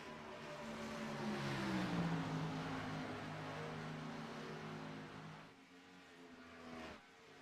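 Stock cars racing at Atlanta Motor Speedway in a racing video game: a pack of engines roars in close quarters, rising in pitch as the cars pass, then fading away with a brief swell near the end.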